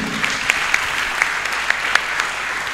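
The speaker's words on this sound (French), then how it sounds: "Est-ce qu'on peut acclamer pour le Seigneur ce matin?" A church congregation applauds together, a steady dense wash of clapping with a few sharper claps standing out, continuous and fairly loud throughout.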